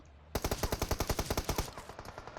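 Automatic gunfire in the mobile game PUBG Mobile: a sudden rapid burst of about fourteen evenly spaced loud shots lasting over a second, followed by a fading tail.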